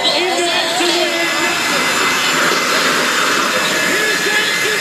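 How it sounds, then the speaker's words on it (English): A jet-powered show van roars at a monster truck event, a loud, continuous blast of jet-engine noise that fills the whole moment without letting up, with voices faintly mixed into the din. "Here comes the Jet Van tipping"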